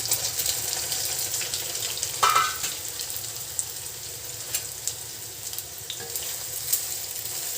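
Soaked meal maker soya chunks sizzle and crackle as they fry in hot oil, a steady close frying hiss with occasional stirring scrapes and no talking.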